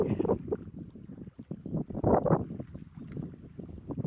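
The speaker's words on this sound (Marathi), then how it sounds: "वारा खूपच जास्त आहे" Strong wind at sea on a small fishing boat during rod fishing buffets the microphone in loud, gusty, low rumbling bursts that rise and fall without a break.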